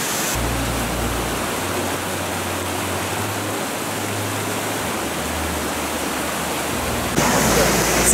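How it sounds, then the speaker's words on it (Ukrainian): Shypit waterfall in the winter Carpathians, only partly frozen over, sends up a constant, close roar of rushing water. The steady broadband hiss holds evenly throughout and swells slightly louder near the end. "Слухай, як тобі водоспад Шипіт?"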